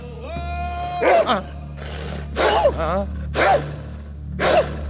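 A man imitates a dog barking with his voice, letting out four or five loud, rough bark-like bursts spaced about a second apart over a steady low hum, in a comic Bollywood movie scene.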